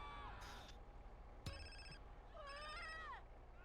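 A phone rings in Grand Theft Auto: San Andreas, short electronic ringtone bursts with a tonal, warbling trill, heard over a steady background hum with no one talking.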